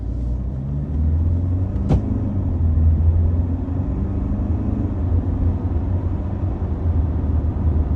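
Alfa Romeo Stelvio SUV driving along a straight road, a steady low engine and road rumble with a brief high whine near the start, continuous and fairly even.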